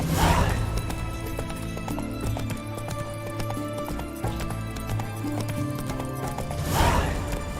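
Roach, a horse in The Witcher 3, walks with steady rhythmic hoof clip-clops, close and continuous, over game music, with a neigh near the start and the end.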